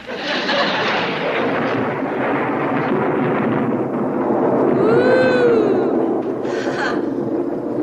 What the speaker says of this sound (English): Is that thunder I heard, or is it just our plumbing again?